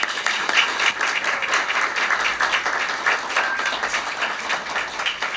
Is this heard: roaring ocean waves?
no